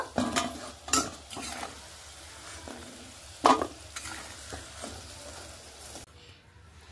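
Soybean chunks fry lightly in leftover potato-frying oil, a soft sizzle broken by loud spoon-on-pan stirring clatters at irregular moments, close by, then quieter toward the end.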